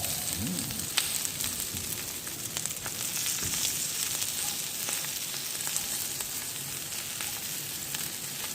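Garlic shrimp sizzle and fry steadily in a hot pan while roasting, a continuous crackling hiss with scattered pops, close and alone.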